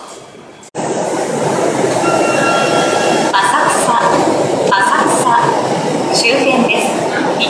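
A Tokyo Metro Ginza Line train bound for Tameike-Sanno rumbles loudly into an underground station, with wheel noise and squeals, while announcements play over the platform.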